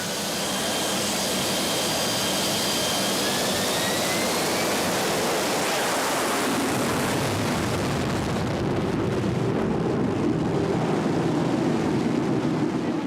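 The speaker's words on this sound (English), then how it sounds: "The jet blast, you really have to lean against it." Loud, sustained roar of a fighter jet launching from a warship's flight deck, a rising whine over heavy rumbling blast that swells and then shifts into broad turbulent noise, close and overwhelming with no voices.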